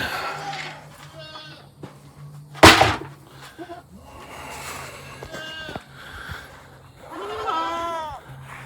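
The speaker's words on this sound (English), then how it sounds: "we're gonna put Buckshot with the other goats" Goats bleat repeatedly on a farm, several calls of varying pitch rising over a low steady hum, with one sharp loud knock or slam partway through.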